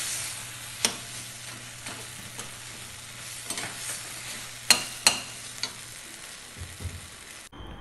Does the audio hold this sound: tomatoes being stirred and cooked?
yes